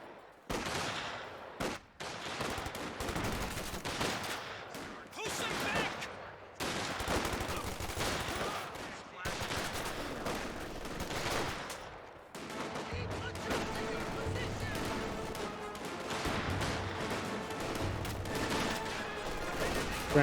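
Dense gunfire and machine-gun bursts from a Company of Heroes 2 World War II battle replay, with rapid fusillades and explosions running throughout under a steady game soundscape.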